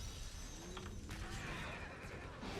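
A horse in the Diablo 3 Reaper of Souls game gives a loud, clear whinny over a dense backdrop of game sound, with hoof clip-clops mixed in.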